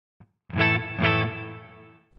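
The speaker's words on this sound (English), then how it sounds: "So this is the reverb." Two distorted electric guitar chords strummed through a Marshall JVM4 series amp with digital reverb, ringing out with a reverb tail that fades away.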